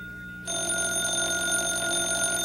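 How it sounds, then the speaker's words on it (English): After a brief quiet moment, a telephone bell starts ringing with a steady, sustained electronic tone, close and loud, continuing without pause. "The telephone's ringing."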